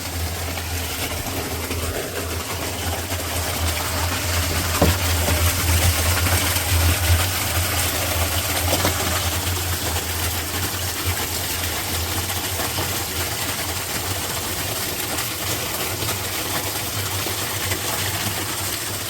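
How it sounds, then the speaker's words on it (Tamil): On a banana farm, water is pumped into a drum, giving a steady loud rushing wash over a constant low engine-like hum that runs unbroken throughout. "பார்த்தீங்கன்னா ட்ரம்முக்கு தண்ணி பிடிச்சிட்ருக்கோம்"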